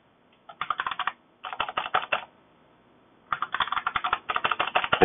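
Fast typing on a computer keyboard, close and clear: rapid clattering keystrokes in three bursts separated by short pauses, heard alone.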